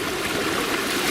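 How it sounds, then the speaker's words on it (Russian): Heavy rainwater in a Moscow street rushes along like a river, a dense, steady gushing and splashing flow heard up close without pause. "Вот такая река у меня сейчас на улице."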